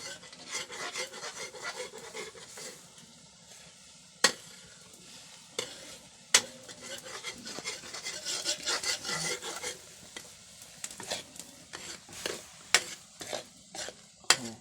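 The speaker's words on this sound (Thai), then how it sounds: "ตอนนี้ก็มาคั่วเนาะ คั่วมันสุก คั่วลาบเนาะ" Bandicoot rat larb, minced meat being dry-roasted in a pan, gives a steady rasping scrape from stirring and sharp clacks of the utensil against the pan, with a light sizzle underneath and no talking.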